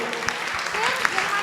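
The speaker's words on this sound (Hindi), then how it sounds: "अपने ही गौरव और सम्मान में एक बार तालियां बजा लो।" An assembly at a Jain sermon bursts into a short round of clapping, dense hand claps with a few sharper slaps standing out, heard with people still talking.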